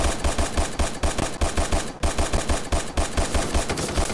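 Rapid gunfire in the Surviv.io video game, fired in a steady fast rhythm of sharp shots over about four seconds, loud and close, with no talking.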